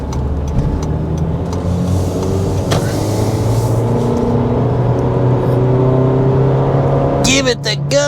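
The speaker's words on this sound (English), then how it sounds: "you can tell this is no powerhouse, but it is adequate in its acceleration" A 2023 Honda HR-V accelerating, a steady engine drone and road noise heard from inside the cabin, rising gradually, with a brief burst of other noise near the end.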